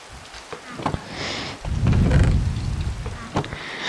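Thunder and steady rain in the Minecraft mod The Broken Script, a broad low rumble swelling midway under a constant wash of rainfall, with scattered sharp clicks throughout.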